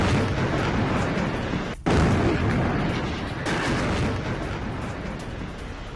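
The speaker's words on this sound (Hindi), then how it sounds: "गाजा में हमास के कमांड सेंटर के ऊपर अटैक, हमास के कमांड सेंटर को पूरी तरह उड़ा दिया गया" Explosions from news footage of an attack on a Hamas command center in Gaza, heard as a dense, continuous roar of blasts with a sudden cutoff and renewed burst partway through, loud throughout and with no talking.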